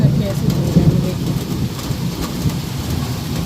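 Torrential rain falls hard in Kolkata with deep thunder rumbling through the downpour, a loud steady wash of rain near the listener and heavier low surges early on.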